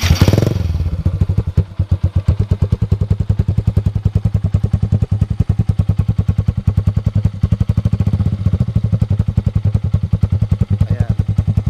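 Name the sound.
motorcycle engine idling without silencer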